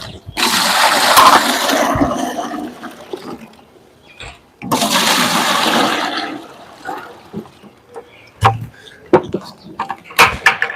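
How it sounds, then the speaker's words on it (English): Water poured from a bucket to fill two containers indoors, a loud rushing splash in two long bursts with a pause between, followed by scattered knocks and handling sounds. "I'm going to fill these two containers with water"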